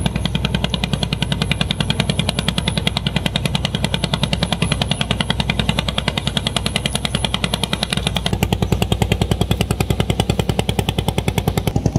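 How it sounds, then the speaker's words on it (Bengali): A passing trawler boat engine on a river thumps in a rapid, steady mechanical chug, loud and continuous throughout with an even pulsing rhythm. "এই যে কত সুন্দর ট্রলার যাইতেছে"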